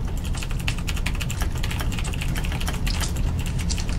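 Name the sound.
typing on a computer keyboard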